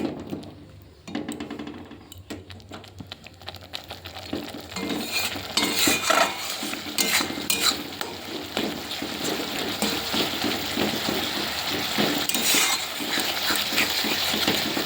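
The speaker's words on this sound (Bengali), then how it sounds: "ভালো করে মশলাটা কষিয়ে নিচ্ছি" Spice paste for a fish curry being stirred and sautéed in oil in a pan, with a steady sizzle and frequent clinks of a utensil against the pan, continuous and close, without speech.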